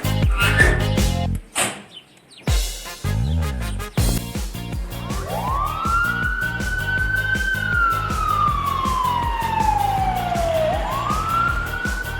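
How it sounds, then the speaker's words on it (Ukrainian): A fire engine siren rises and falls in long, loud wailing sweeps over the upbeat music of a children's song, running through the second half of the passage with no talking. "На виклик пожежна машина летить."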